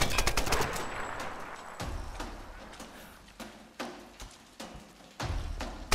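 Rapid bursts of gunfire from the video game Tomb Raider (2013), a dense volley at the start followed by several sharp separated shots over steady background noise.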